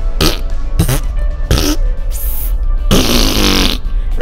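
A person makes several loud, wet, sputtering fart noises with the mouth, a voice imitating flatulence, in short bursts followed by one longer blown raspberry.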